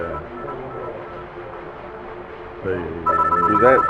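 A telephone goes off during an interview with a martial arts grand master. Someone talks over low room tone, then a bright, tonal electronic ring cuts in near the end and grows louder.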